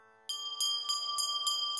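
A small hand bell rung repeatedly during the lamp-waving offering of a Hindu puja, bright sustained metallic tones struck about every third of a second, close and steady with no talking.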